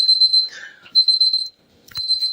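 Kitchen timer alarm beeping in bursts of rapid high electronic beeps, loud and close, with short pauses and a faint clatter between bursts, while milk is heated for lavender caciotta cheese.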